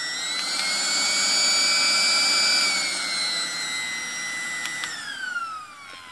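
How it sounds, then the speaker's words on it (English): Two battery-powered pusher fan blowers for a U.S. M45 mask LWPAPR run together, giving a steady, loud electric whine with layered high tones that slowly shift in pitch and drop near the end, with no talking. "both blowers running."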